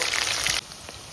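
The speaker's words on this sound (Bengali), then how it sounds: "পেঁয়াজটা একটু ভালো করে ভেজে নেব" Onions frying in oil in a hot kadai make a loud, even hiss that cuts off abruptly partway through, leaving a much quieter, faint sizzle.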